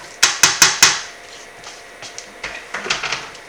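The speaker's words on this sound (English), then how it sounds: "We can mash these by hand" Boiled potatoes being mashed by hand right inside a pan: four quick, evenly spaced metallic clanks of a masher striking the pan, then softer, irregular knocks and scrapes, close and fairly loud.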